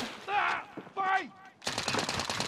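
Gunfire from the video game Call of Duty: Modern Warfare: a dense burst of rapid automatic shots starts midway and keeps going to the end, loud and close, with voiced speech sounds before it.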